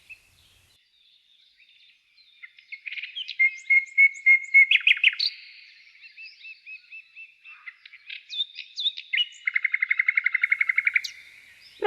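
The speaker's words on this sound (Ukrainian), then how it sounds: "Правильно, це пташка." A small bird chirps and trills in several clear bursts, including rapid repeated notes, against an otherwise quiet background.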